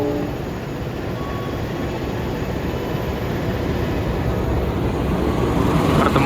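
Passenger trains of the KA Malabar service meet at Kutoarjo station, one a new-generation stainless steel set, giving a continuous loud rolling rumble and rail noise that holds steady throughout.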